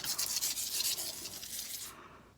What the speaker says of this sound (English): I'm scratching a brick